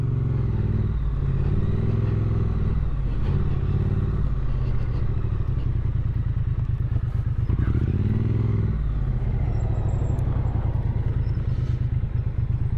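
Triumph Street Twin motorcycle idling and rolling slowly onto gravel, a close steady parallel-twin thrum with small throttle blips and light crunching, no talking over it.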